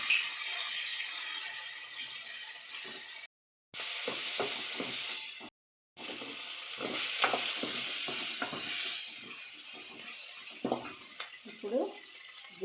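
Onions fry in a pan with crushed garlic, tomato and coriander for drumstick sambar. A steady frying hiss has two short silent gaps, then spoon scrapes and clacks come in as the mixture is stirred.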